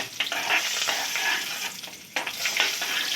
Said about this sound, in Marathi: उडदा डाळ भाजली।